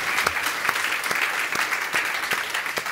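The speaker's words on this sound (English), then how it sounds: "Big round of applause for our two wonderful nurses." Conference audience at a head and neck cancer meeting applauds two nurses, a short burst of dense, even clapping from a large seated crowd.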